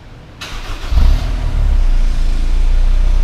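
A 2002 Honda S2000 AP1 engine cranks and catches, surging loudly once before dropping to a steady, close idle heard from the rear of the car.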